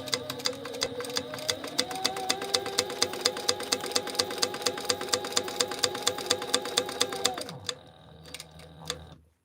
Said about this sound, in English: We're just going to stay stitch this all the way around.